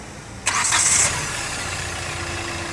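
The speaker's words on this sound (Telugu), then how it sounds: "సింగిల్ సెల్ఫ్లో బండి స్టార్ట్ అయింది." A 2018 Hyundai Creta diesel engine cranks briefly and catches at once, then settles into a steady, quiet idle that continues to the end.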